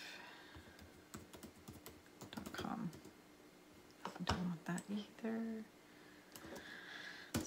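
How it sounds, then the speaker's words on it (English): Keyboard typing on a computer during a genealogy records search, with bursts of quick clicking keystrokes close to the microphone, while a voice talks briefly in the middle. "maybe if I type it in myself"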